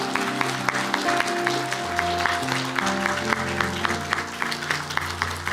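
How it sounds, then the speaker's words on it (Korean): A Korean church congregation at a Sunday service claps together, a steady, full wash of applause that fills the room and keeps going without a break, with faint voices underneath. "그리고 박수로 모시도록 하겠습니다."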